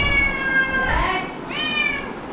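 A cat gives two drawn-out meows close by, one after the other with a short gap, its tone rising and falling over faint background noise.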